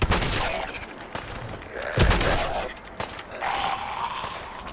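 Gunfire in the video game Fallout 4 on PS4, with several loud bursts of shots and mechanical clanks in a chaotic firefight, broken by short gaps.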